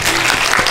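Cinema audience applause after a film screening, a brief dense burst of clapping, loud and close, lasting under a second.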